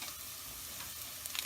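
Steady, quiet sizzling of ingredients sauteing in a pot for potato soup, a continuous soft hiss with a few small pops near the end and no speech.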